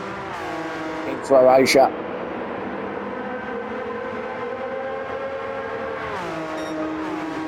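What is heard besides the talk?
Porsche race cars in a racing video game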